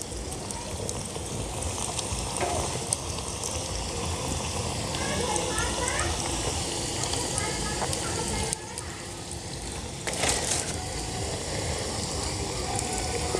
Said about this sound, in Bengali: এবার গরম তেলে এগুলোকে ভেজে নেব